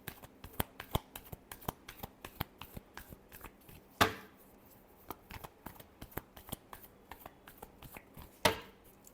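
Tarot cards shuffled by hand: a steady run of crisp, close taps and flicks in an irregular rhythm, with two louder riffling bursts, quiet and alone with no talk.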